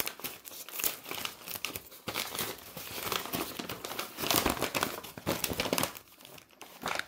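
Packaging from a supplier shipment crinkles and rustles continuously as it is unwrapped, close and fairly quiet, with irregular bursts of crumpling and occasional tearing.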